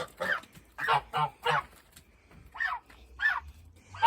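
Domestic geese give a run of short nasal honks, about seven in irregular pairs and bursts, close by and fairly quiet with brief pauses between calls.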